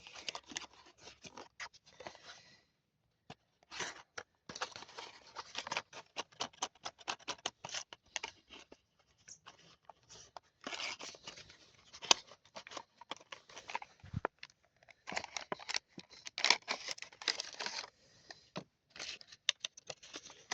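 Packaging for a small Kaira 2.7 litre item is handled and opened close up, with irregular crinkling, scratching and tearing rustles in quick bursts separated by short pauses.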